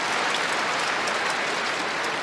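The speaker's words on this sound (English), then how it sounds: "You can hear the crowd gasping with amazement." A crowd at a men's singles table tennis world championship final applauds in a dense, steady burst of clapping that fills the hall without pause.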